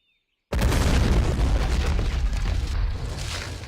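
A sudden, heavy explosion in the WWII strategy video game Men of War, bursting out of silence into a loud, sustained rumbling roar that slowly fades over about three seconds.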